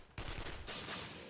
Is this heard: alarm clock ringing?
no